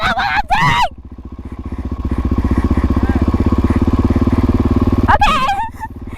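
A dirt bike engine, ridden by a first-time learner, climbs into a loud, close, pulsing rev that holds for several seconds and then drops back. People talk just before and just after it.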